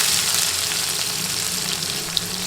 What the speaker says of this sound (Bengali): এবার নেড়ে নেড়ে পেঁয়াজ ভেজে নিব